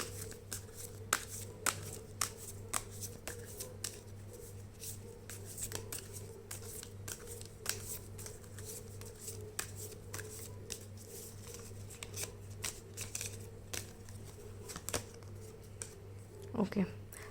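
Tarot cards are shuffled, handled and drawn in a run of soft, close flicks and snaps over a steady low hum, with a brief voice near the end.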